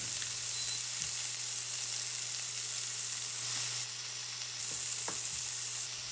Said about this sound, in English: we're going to cook these down in that wonderful bacon fat until they're nice and soft and the onions are translucent